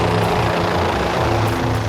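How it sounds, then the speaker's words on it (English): A helicopter hovering over water with boats around, a steady loud rotor and engine roar throughout. "We've got so much noise and vibration with the helicopter, with all the boats around."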